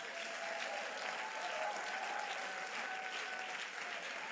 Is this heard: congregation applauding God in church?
yes